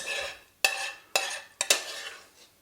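A utensil scraping and clanking in a pan as petits pois cook, four sharp metallic strokes in quick succession over a soft background sizzle, with no voice.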